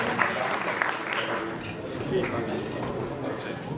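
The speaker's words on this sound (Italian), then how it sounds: "rifarei un grande applauso, veramente grazie Maurizio." A student audience at the Manfredini school claps for a guest speaker, a fairly faint, sustained round of applause with voices talking over it.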